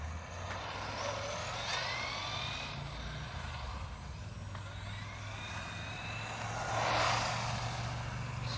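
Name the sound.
Optima Mid Custom Special 1989 buggy running on tarmac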